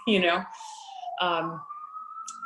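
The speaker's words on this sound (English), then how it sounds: "Sorry for the siren, New York City." A police siren wails steadily in the distance on a New York City street beneath a person talking, its tone holding and rising slightly over a couple of seconds.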